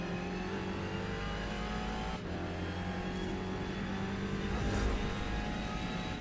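Race car engines in Forza Motorsport at Daytona, driving an R-class Ferrari 488 GTE and chasing a Dodge: a steady, loud, sustained high-revving engine drone with layered whine, with small shifts in pitch and no talking.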